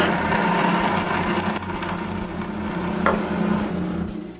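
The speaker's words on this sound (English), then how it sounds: "I can shape them and drill their mounting holes." A power tool shapes and drills wooden bearing mounts for a wooden jointer, giving a steady, loud, close whine with a buzzing hum and no pause.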